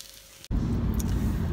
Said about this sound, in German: da brutzeln die Eier inmitten meiner Computer